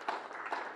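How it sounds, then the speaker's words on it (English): A church congregation applauds in a brief burst of light clapping at moderate distance, ending quickly. "let's just applaud and invite them into the church"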